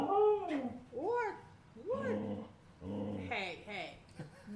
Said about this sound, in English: All these dogs are jealous.